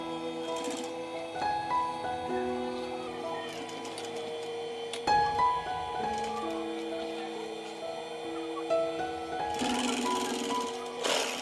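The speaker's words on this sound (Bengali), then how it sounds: "হ্যান্ডেলটিকে এভাবে ধরে সেলাই করতে হবে ঠিক পয়েন্ট পর্যন্ত গিয়ে আবার ঘুরিয়ে নেব সেলাইটিকে" A sewing machine stitches a handle onto a foam fabric bag with a faint, steady mechanical whir and rapid ticking needle strokes. The motor pauses briefly now and then as stitching restarts.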